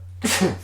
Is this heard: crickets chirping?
no